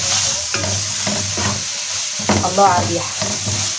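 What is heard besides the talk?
garlic sautéing and stirring in a pan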